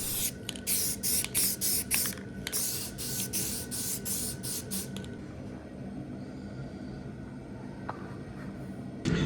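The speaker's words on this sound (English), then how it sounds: "Now I'll spray it with satin white paint." Short bursts from a spray can of satin white paint hiss in a quick series of pulses for several seconds, then stop, leaving quiet room sound.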